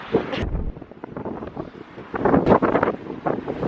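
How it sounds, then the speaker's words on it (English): Strong outdoor wind buffets the microphone in a steady, close, low roar, swelling into louder gusts toward the end, with no clear voices over it. "Gosh, it's windy."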